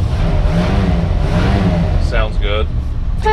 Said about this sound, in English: it revs up